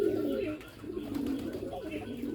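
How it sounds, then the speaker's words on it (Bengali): Bombay pigeons coo inside a coop, with low, throaty, rolling calls that repeat and overlap, heard close and clearly. "এই যে ডাকাডাকি করতেছে বোম্বাই কবুতর"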